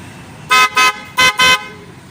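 Dual horn newly fitted to a Motorstar 150 motorcycle blares in four loud, close honks, two pairs of short bursts with brief gaps, rich and brassy over quiet background.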